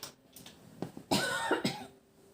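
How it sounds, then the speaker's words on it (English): A person coughs a few times in quick, raspy bursts, close and fairly quiet, with a throaty catch between them. "Need to cough up that"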